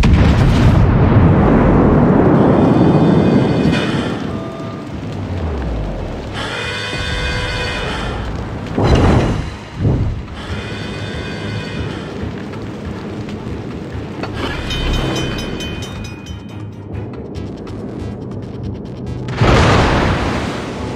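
Video game artillery shells strike a designated target in a run of loud, heavy booms and blasts, some rolling and rumbling, others sharp bursts. Debris crackles and patters between the impacts, with no voices.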